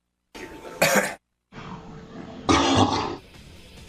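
A man coughs and clears his throat in two harsh bursts separated by a short silence, close and loud, with a lower rasping rumble between them.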